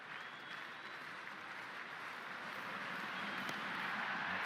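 Dense stadium crowd roaring and applauding during a simulated India versus South Africa cricket warm-up match in Cricket 26, a sustained loud wall of cheering that builds slightly toward the end.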